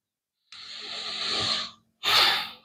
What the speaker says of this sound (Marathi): आरामशीर श्वास आत घ्यायचा आणि बाहेर सोडायचा